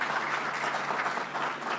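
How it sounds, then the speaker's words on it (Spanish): A conference audience claps continuously for a moment, a dense, even round of applause. "un aplauso."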